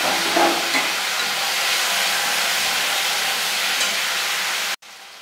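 Taro stems frying in mustard oil with panch phoron and a dry chilli, a loud, steady hiss of sizzling with a few faint stirring clicks, cutting off abruptly near the end before resuming more softly.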